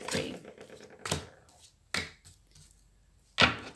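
A deck of cards is shuffled and tapped during a tarot reading, giving four separate close, crisp riffling bursts spaced apart with quiet gaps between them.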